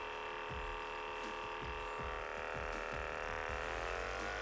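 A Hypervolt massage gun runs at its second setting with a steady electric motor hum and rapid buzzing whine, overlaid by a regular thumping pulse about twice per second, close and unaccompanied by speech.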